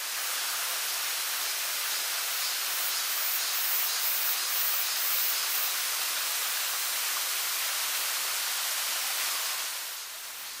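The roar of Wibong Waterfall, a 60 m two-tier falls in the mountains of Wanju, as a broad, even rush of water that holds constant, then eases slightly at the very end.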